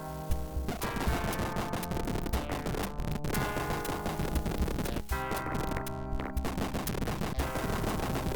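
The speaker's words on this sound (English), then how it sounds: "It is kind of ridiculous how flashy the explosions are." Rapid, dense bursts of retro video game explosions in Catacomb 3-D, loud and near-continuous with sharp repeated cracks and booms, no talking over them.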